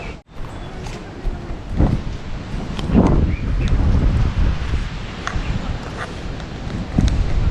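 Gusty wind blows through a forest near the mountains, buffeting and rumbling steadily with soft rustling, while faint voices surface now and then.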